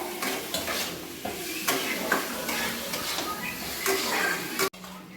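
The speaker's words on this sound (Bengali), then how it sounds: "কষিয়ে নেওয়ার পর আমি চিকেনটা দিয়ে দেবো, দিয়ে চিকেনটাও ভালো করে কষিয়ে নেব।" Chicken stir-fried with spices in a pan sizzles steadily up close while a utensil scrapes and knocks against the metal in uneven strokes, ending with a brief sharp clank.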